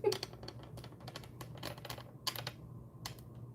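A thick Witches' Wisdom tarot deck is shuffled up close, giving quick, quiet bursts of crisp clicking riffles that come and go in an uneven rhythm.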